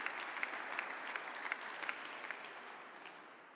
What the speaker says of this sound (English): Give yourselves all a round of applause.